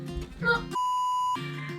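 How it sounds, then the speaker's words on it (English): Phone beeping, a single steady electronic tone held for about half a second between stretches of background music, clear and close. "Okay, well there goes my phone."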